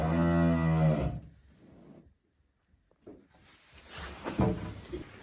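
Cattle including a young bull and a calf: one lets out a long, loud moo up close, then a quiet pause, followed by rustling and shuffling noises.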